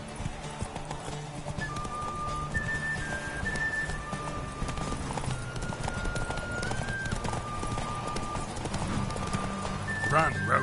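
Hooves of the horse Roach in The Witcher 3, a steady galloping clip-clop with a brief whinny near the end, under a rider's spoken lines and game music.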